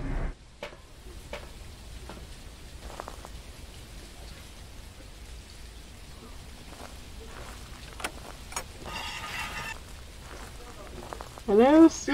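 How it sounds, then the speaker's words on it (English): Steady rain patters across a surface in the Phasmophobia game at a campfire spot, a constant soft hiss running throughout with a few sharper clicks and a brief louder burst near the end. "Oh, it's raining, we can't light the campfire!"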